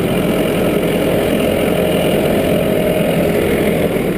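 A Farmall tractor engine runs steadily at close range, a constant loud mechanical drone with an even low rumble and no pauses for the whole stretch.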